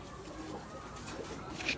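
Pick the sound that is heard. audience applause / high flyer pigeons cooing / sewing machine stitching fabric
high flyer pigeons cooing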